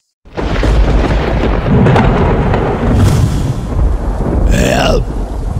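Loud thunder in an animated children's story, a heavy sustained rumbling crack that fills the whole span, close and booming, with a brief vocal sound near the end.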